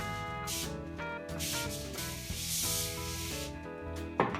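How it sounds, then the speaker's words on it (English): A spray bottle spritzes a smoking brisket on a Green Mountain pellet grill in several quick hissing bursts, heard over a bed of background music. "I'm going to give it a little spritz again."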